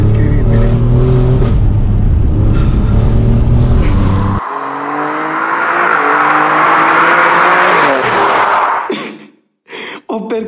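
Loud Alfa Romeo Giulia QV engine revving hard with rising and falling gear pulls, then cutting out abruptly, with a person talking over it.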